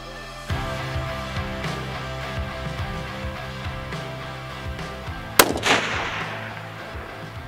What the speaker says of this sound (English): we just shot at the 1790-yard target